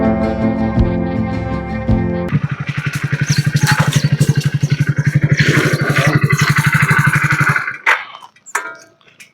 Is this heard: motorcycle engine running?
yes